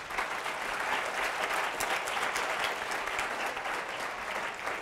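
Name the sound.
audience applause for Myrtle Bradshaw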